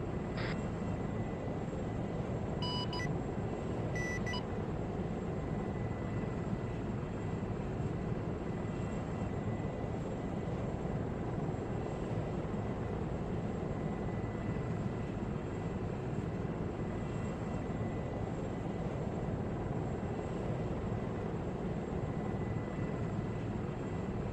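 A KA-50 attack helicopter flies in a military video game with a constant, droning rotor and engine roar, loud and unbroken across the whole stretch, with a few brief beeps near the start.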